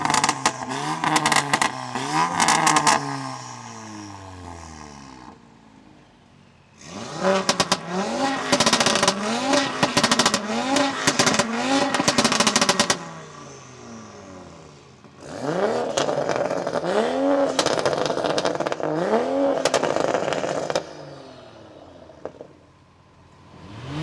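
Tuned hot hatches, an A45S, RS3, M240i and Golf R, rev hard and accelerate in three loud close bursts, engines climbing through gear changes with brief pauses between runs.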